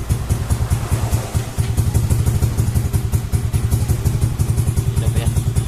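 A Yamaha Lexi/Aerox scooter with a code 12 injection-indicator fault starts and settles into a loud, close idle, its engine chugging in a steady rapid rhythm after a brief dip near the start.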